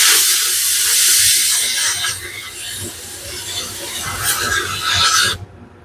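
A Harbor Freight sandblast cabinet blasting with compressed air gives a loud, steady rushing hiss of air and abrasive for several seconds, then cuts off abruptly near the end.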